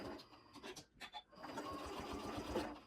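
A sewing machine runs a short back stitch through quilt fabric on an embroidery sampler quilt, giving a steady close mechanical whir after a few brief start-stop bursts.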